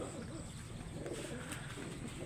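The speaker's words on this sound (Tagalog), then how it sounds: "Ayan guys, yung mga kalapati natin guys" Soft, low pigeon coos repeating over a steady background hum, fairly faint and distant.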